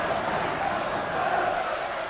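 Steady roar of a football stadium crowd at a Hereford v Albion match, about 8,000 spectators, a dense continuous wall of cheering and chanting with a commentator's voice faint beneath it.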